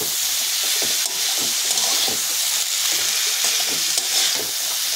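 Prawns with salt and a little turmeric are stirred in a hot frying pan for a shrimp and pointed-gourd-tip dish, giving a steady close sizzle with scraping, shuffling stirring strokes throughout.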